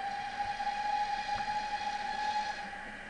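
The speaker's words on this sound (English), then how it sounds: "Are there trains running?" A train runs in a horror video game, a steady rumbling rail noise under a long sustained whistle-like tone that holds for about two and a half seconds before fading.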